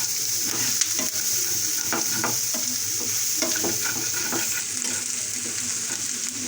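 Green chillies fry in hot oil in a pan, a steady close sizzle with scattered pops and crackles throughout, no talking.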